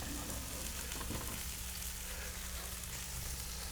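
Onions and celery fry in a pan, a close, even sizzle with a brief stirring scrape early on, no voices present.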